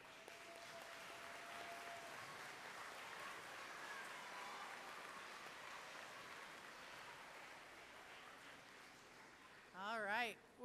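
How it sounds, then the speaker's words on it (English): Students and families at a school awards day applaud the volleyball participants, a long, even wash of clapping heard from a distance, with a brief voice cutting in near the end. "then we'll applaud"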